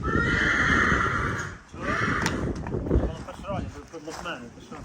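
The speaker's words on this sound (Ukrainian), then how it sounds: "Зараз виведемо ще одного представника першеронської породи. Це робоча кобила, так." A Percheron work mare neighs twice in long, loud, close whinnies outdoors, with wind noise on the microphone, a few hoof sounds, and voices talking nearby afterward.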